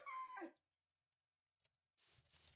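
A pet dog whimpers and yips faintly in a quiet bedroom, a short whiny cry followed by silence and then a softer breathy burst.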